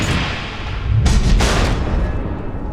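Missiles exploding in the Batman: The Enemy Within game, a loud deep boom swelling over a dense, rumbling background roar, with a brief burst of crackle at its peak.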